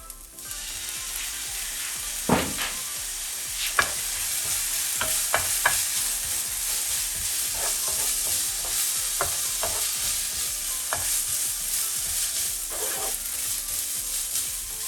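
Spring roll vegetable filling stir-fries in a pan with light soy sauce, sizzling steadily while a utensil scrapes and taps against the pan in scattered strokes. The sound is close and moderately quiet, with no talking.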